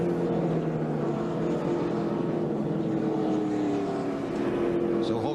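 A NASCAR stock car driven by Jeff Burton at the 2006 Dollar General 300 under a yellow-flag caution, engine droning steadily with rising harmonic tones, a constant loud roar of race cars with commentary talking over it.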